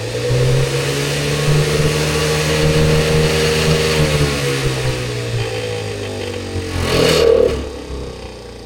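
A deer feeder's spinner motor whirs in test mode, a steady mechanical hum that rises in pitch as it spins up, then winds down with a brief clatter near the end.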